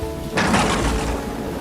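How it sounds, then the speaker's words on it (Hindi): A sudden crash of thunder breaks in and heavy rain follows, creating a dense, loud wash of noise that continues to the end. "बिजली कड़की और देखते ही देखते घनघोर वर्षा होने लगी।"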